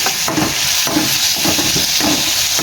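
Onion and tomato fry in a pan with a loud, steady sizzle and hiss, while a spoon stirs and scrapes at a regular pace, close up and with no voices.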